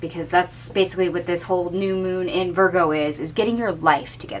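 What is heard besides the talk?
No everyday noises stand out.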